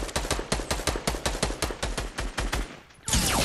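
Video game gunfire rattling off in a fast, steady stream of sharp, loud reports for about three seconds, then a brief lull before a louder, harsher blast of noise.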